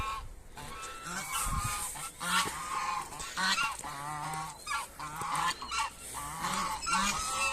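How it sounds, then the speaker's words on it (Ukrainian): Two ganders and a goose honk repeatedly nearby on a farm, a loud, harsh chorus of overlapping calls that continues without pause. "Маємо два гусаки і одну гуску."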